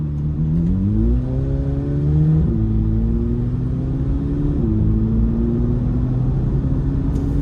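A 2026 Chevrolet Corvette Z06 engine pulls steadily from inside the car, its low rumbling note rising in pitch through successive gear steps under a constant drone.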